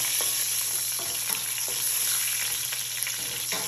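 Spices sizzle and fry steadily in hot oil in a pan while being stirred, with a dense continuous crackle and soft scraping strokes from the spoon repeating every half second or so, close up with no voices.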